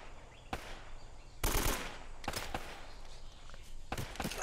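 Enemy gunfire in Uncharted: short, sharp bursts of shots crack out in several separate volleys, the loudest a dense half-second burst, with quieter game ambience between them.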